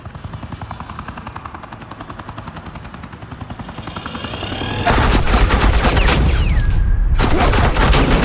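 Suppressing gunfire in the Batman: The Enemy Within video game, a steady helicopter-like drone that swells into loud, dense rapid bursts of automatic fire, pausing briefly before resuming.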